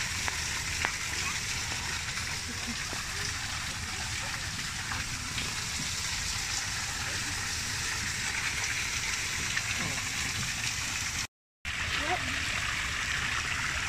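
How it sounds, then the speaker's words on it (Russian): A small waterfall and babbling brook in Bellevue Botanical Garden rush with a constant, dense hiss of flowing water. The sound is close and unbroken apart from one instant dropout. "Тут водопадик и ручеек."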